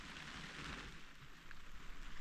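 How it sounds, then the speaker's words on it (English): Light rain sprinkling at a remote mountain campsite in spring, a soft steady hiss of drops with faint patters, quiet and continuous with no voices. "I hear rain."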